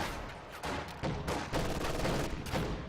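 In Company of Heroes 2, LMG-upgraded Grenadiers fire at conscripts holed up in a house, producing rapid, continuous bursts of machine gun fire that repeat over a few seconds at moderate loudness.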